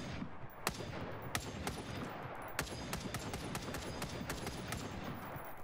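Scattered gunshots in the survival game Front, sharp isolated cracks at irregular intervals over a steady background noise, fairly faint and without talk.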